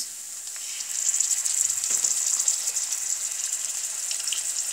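Ginger paste and cumin paste sizzle in a pan for a vegetable and dal dish, a soft, steady, airy hiss that rises after the first second and holds evenly, with a faint clink partway through.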